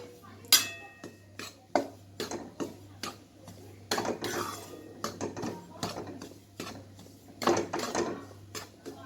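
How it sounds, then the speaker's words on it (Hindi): Rice flour dry-roasts in a kadhai over high heat as a spoon scrapes and knocks against the metal in an irregular run of sharp clicks and scrapes. "तब तक कढ़ाई को तेज आंच पे ही रखना है और इसे लगभग 5-10 मिनट अच्छे से चलाना है"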